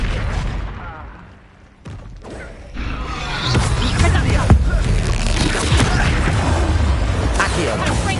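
Spell explosions from the Hogwarts Legacy video game: a fiery Confringo blast and other combat spells bursting in a dense, loud barrage of booms, crackles and crashes, with brief pauses early on before a sustained roar of impacts.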